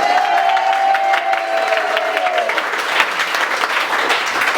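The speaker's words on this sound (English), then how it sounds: "Round of applause, please" Stand-up comedy audience in Melbourne bursting into loud applause with cheers and whoops, a dense roar of clapping sustained throughout, with a brief sung or whistled tone early on.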